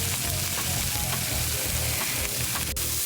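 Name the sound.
sausage frying in a pan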